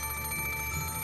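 A telephone rings steadily and continuously in an indoor room, a sustained electronic tone at moderate volume with no voices over it.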